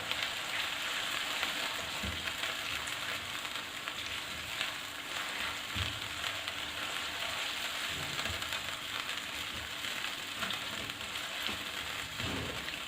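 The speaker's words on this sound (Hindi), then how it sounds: "1 कप मैं इसमें चिकन शामिल कर रही हूँ। अब इसको हम प्याज के साथ थोड़ा पकाएंगे।" Small chicken pieces fry with onions in hot oil, giving a continuous, even sizzle close by, with occasional light stirring scrapes and no talking.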